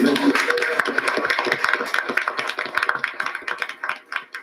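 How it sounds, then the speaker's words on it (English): An audience applauding police officers called to the front at a meeting, a steady patter of many hands clapping at moderate loudness that thins and fades toward the end. "Give them a round of applause."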